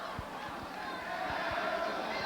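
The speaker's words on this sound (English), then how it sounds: "the Lemoyne-Owen crowd is taking a page out of Potsdam State as they pick up the chant of air ball" A basketball crowd at a 1986 NCAA Division III championship game chants "air ball" in a rhythmic, repeated group shout, loud and echoing through a gym over general crowd noise.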